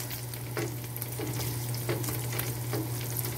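Potatoes frying with bacon and poblano pepper in a pan, a steady close sizzle with a constant low hum beneath and several soft stirring scrapes spaced through it.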